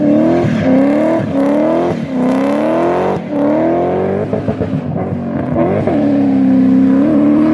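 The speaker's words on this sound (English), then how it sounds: "This is what M60 B40s can sound like" A BMW M60 B40 V8 engine in an E36 coupe revs hard and loud, rising and falling through several throttle blips, with a deep burbling rumble close by.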